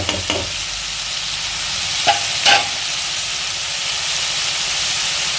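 Vegetables with bansi rava sizzle steadily in a pan as upma cooks, a constant frying hiss broken by a couple of brief spoon scrapes and stirs; no one talks.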